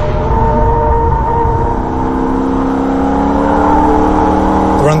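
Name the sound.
Holden race car engine accelerating on Nurburgring lap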